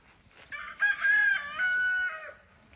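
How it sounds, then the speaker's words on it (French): A rooster among hens crows one long, loud, drawn-out call close by, rising then holding before trailing off, over quiet farmyard background. "J'ai mon coq s'en donne à cœur joie avec ses petites poulettes."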